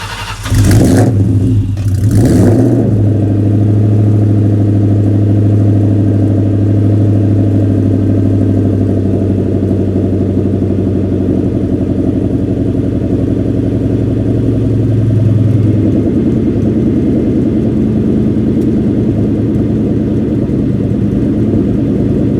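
A 2003 Mustang Cobra sets off on a test drive: a few brief clattering knocks, then a loud, steady engine drone that runs for about fifteen seconds before dropping to a lower, quieter rumble.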